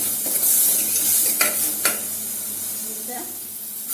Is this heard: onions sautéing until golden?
yes